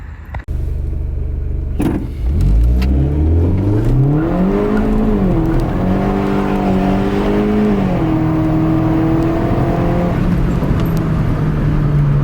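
A MINI Cooper fitted with a larger RPM Powered R300 turbo pulls away on a test drive, its engine loud and close as the revs climb in rising sweeps through several gear changes before settling into a steady cruise drone.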